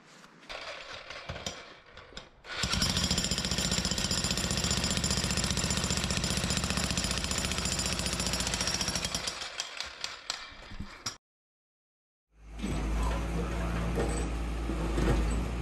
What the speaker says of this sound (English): This is our second rented power tool of the day.